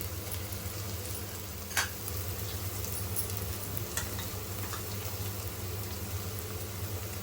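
Ground spices and masala sautéing in a pan for an egg and spinach curry, a steady close sizzle with a couple of brief scrapes of a spoon, no voices.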